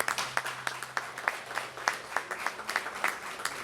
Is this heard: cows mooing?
no